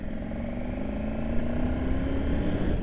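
A Triumph 900 GT twin-cylinder motorcycle engine pulls uphill in fourth gear at low speed, a steady low drone with a slowly rising tone as it accelerates, close and continuous under wind.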